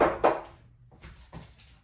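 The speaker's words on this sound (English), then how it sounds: "let me just close the window." A couple of soft knocks and a dull slide and thump nearby, like a window being pulled shut, then quiet.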